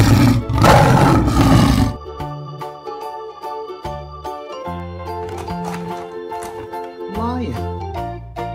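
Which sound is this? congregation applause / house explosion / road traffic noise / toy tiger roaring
toy tiger roaring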